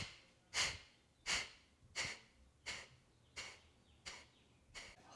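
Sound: eight sniffs out through the nose, yoga breathing

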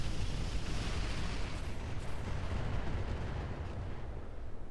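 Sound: incendiary strike explosions in the Roguetech video game

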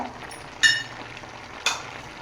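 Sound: stirring chicken with curry and chicken masala in a pan

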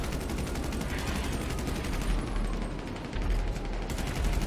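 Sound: gunfire in video game GTA 5

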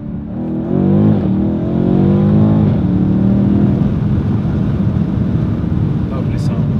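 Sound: BMW M850i engine revving

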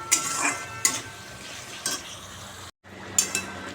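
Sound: spices being fried for fish curry

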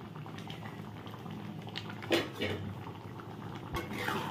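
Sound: moong dal boiling in pot

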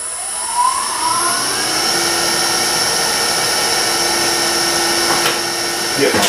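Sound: wood lathe turning curly maple cane blank

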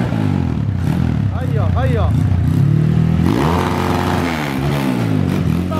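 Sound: 22 hp 190 motorcycle revving

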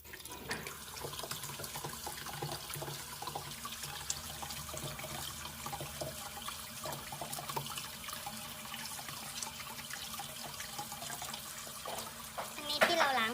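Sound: rinsing egg tofu in water

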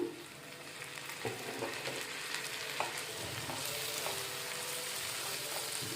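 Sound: goat brain frying in a pan

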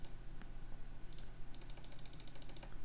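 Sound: computer mouse clicks

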